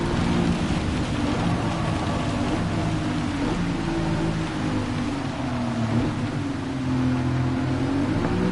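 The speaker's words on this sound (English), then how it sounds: "you can see the rain coming down super hard over here" Heavy rain pours steadily during a wet race in a Gran Turismo-style Gr3 sim racing game, a dense continuous hiss with low rumbling car engine tones running underneath throughout.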